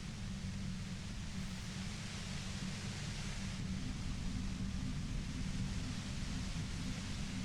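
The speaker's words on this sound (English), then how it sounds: "You hear through the white noise." Steady broadband static hiss from Disco Elysium, a continuous wash of white noise with a low rumbling layer beneath, constant in level throughout with no voices.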